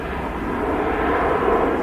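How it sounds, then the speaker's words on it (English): A Jet2 Boeing 737 rolling down the runway on takeoff at Manchester Airport, a loud steady engine roar heard from a distance, with no talk over it. "No surprise that the Jet2 737 is using a lot of runway there."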